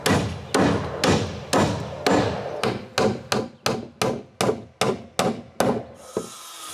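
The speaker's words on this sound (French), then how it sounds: "j'apporte les 6 planches et je cloue les 5 premières" Hammer driving nails into wooden dock planks at a lakeside cottage, a dozen loud, evenly spaced thuds ringing in close succession, with no talk.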